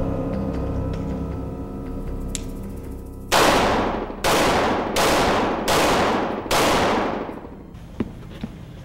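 A pistol fitted with a laser sight fires five loud, close shots from a low, ground-level position, evenly spaced about a second apart. Each shot leaves a brief decaying echo, and a steady hum runs before the first shot.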